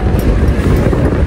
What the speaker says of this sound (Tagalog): ngayon ay mahangin dahil may bagyong parating